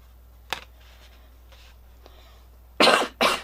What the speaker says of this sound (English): Sorry, I have a little bit of a cough.